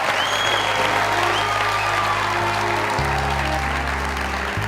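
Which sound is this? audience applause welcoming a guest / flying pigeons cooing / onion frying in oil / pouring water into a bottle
audience applause welcoming a guest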